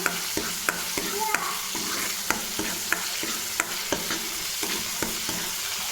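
Masala sautéing in oil for a chole curry, a steady sizzling hiss broken by sharp, regular clinks and scrapes of a ladle stirring in the pan, close and alone with no voices.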